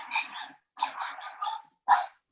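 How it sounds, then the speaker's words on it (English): A dog barks several times in quick succession, close by and loud, with short pauses between the barks. "that's my dog."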